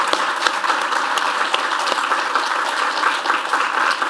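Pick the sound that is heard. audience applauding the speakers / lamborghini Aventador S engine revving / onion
audience applauding the speakers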